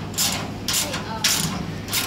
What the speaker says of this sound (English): I'll spin the bolt head on the inside. But I want to compress the lock washers